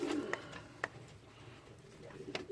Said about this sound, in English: Two really bonny pigeons